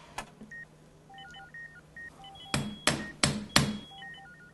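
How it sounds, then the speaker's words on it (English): Hammering sound effect in a comedic carpet-replacement skit during a Catamount football broadcast: four loud, evenly spaced thuds, preceded by a series of beeping tones. "Hammer."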